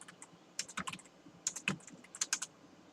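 Keys clatter on a computer keyboard as a PowerShell command is typed, two quick clusters of sharp close clicks separated by a short pause.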